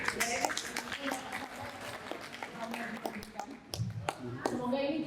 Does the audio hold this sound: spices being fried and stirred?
no